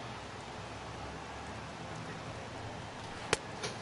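Steady hiss of heavy rain falling over a baseball game, a dense continuous wash of noise with one sharp crack near the end.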